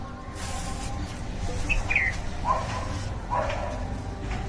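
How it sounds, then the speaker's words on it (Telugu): A few short bird chirps, faint and spaced apart, over low background rumble. "పక్షులు"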